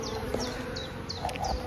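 Honey bees buzzing around an opened hive during a weekly swarm inspection, a close steady drone with individual bees whining past, fairly quiet and continuous.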